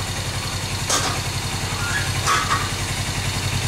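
A Suzuki GS 500 motorcycle engine, warmed up, idles with a steady low throb, interrupted by a couple of brief louder clattering bursts.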